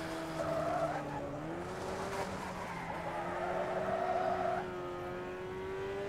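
An opponent's car in Wreckfest holds a steady engine drone with rising pitch through a hairpin, while tires squeal and skid continuously at moderate volume.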